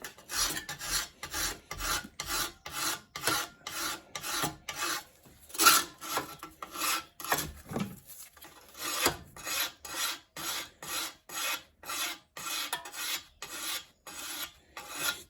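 Steady back-and-forth rasping of a file dressing rust off a lawn mower's bottom blade, close and regular strokes about two per second with a brief pause midway, no voices.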